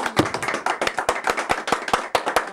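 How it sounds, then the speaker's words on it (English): A small group claps in a brief, sparse round of applause, each sharp hand clap distinct and close in an uneven rhythm. "Shall we give them a round of applause?"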